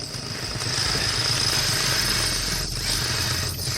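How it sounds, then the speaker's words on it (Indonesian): A powered tool grinds against military-grade glass. The buzzing, rattling hum runs continuously and fairly loud throughout, with a faint high whine and two brief swells near the end. "Hei, berhenti ngebor, terlalu berisik."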